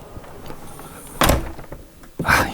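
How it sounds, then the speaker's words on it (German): A door on a Concorde Centurion 1200 motorhome built on a Mercedes-Benz Actros truck is pulled shut, giving a sharp thud followed by a second solid latching knock, close and fairly loud over quiet interior ambience. "So, Tür mache ich mal zu."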